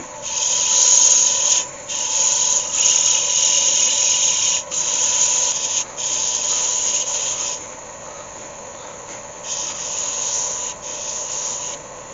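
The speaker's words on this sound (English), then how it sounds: "I just need to sand that down now and apply some polish. Let's start with a 120 grit." A cherrywood pedestal bowl base, turned from a green log, sanded with 120 grit sandpaper on the lathe, a close, steady high-pitched rasping hiss that pauses briefly several times and softens toward the end.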